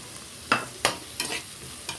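Soft crackling sizzle of finely chopped tomato sautéing in a pan, punctuated by a few quick scraping stirs, fairly quiet and close.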